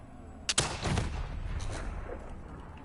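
A gunshot from the Black Ops 3 video game cracks sharply at once, then a second report follows with a rumbling tail that fades under a steady background hum.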